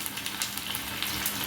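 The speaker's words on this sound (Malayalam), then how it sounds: "അപ്പോൾ കടുക് നന്നായിട്ട് പൊട്ടിയിട്ടുണ്ട്, ചുമന്ന മുളക് നന്നായിട്ടായിട്ടുണ്ട്" Mustard seeds and red chilies fry in hot oil, giving a close, continuous sizzle dotted with quick pops and crackles, with no talking.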